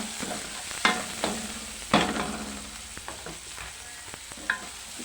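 Onion stir-frying in a pan for pancit palabok, a steady close sizzle with scraping spatula strokes and sharp clacks recurring about every second, no talk.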